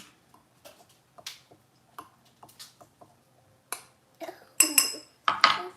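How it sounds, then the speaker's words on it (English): Ingredients being stirred together in a bowl during holiday meal prep: scattered light clinks and taps of a utensil against the bowl, sparse at first, then a few louder scraping strokes near the end, with no talking. "let's mix this in really good"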